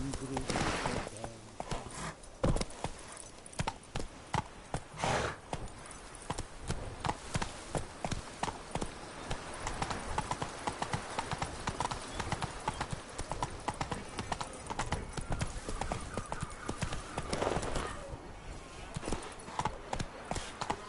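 Roach, the horse in The Witcher 3, trots in a steady clip-clop of hooves, close and continuous, with a voice speaking over the hoofbeats.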